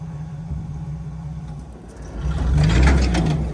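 A vehicle engine pulls in first gear while towing with a strap across a yard, a low steady rumble that swells louder and rougher in the last second.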